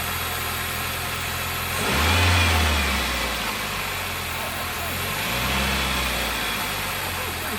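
A neglected, smoking Toyota Celica idles steadily up close, with two swells where the engine revs up and falls back, and people talking over it.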